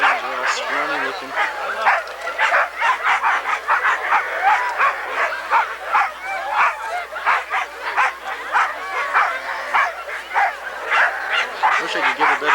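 Sled dogs at the Can-Am Crown 1993 sled dog race bark, yip and whimper in a dense, continuous chorus nearby, with people talking over the commotion.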